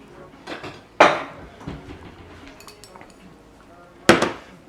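A bowl is pulled out among dishes in a home kitchen, giving two loud, close ceramic clatters with lighter clinks and a soft voice in between.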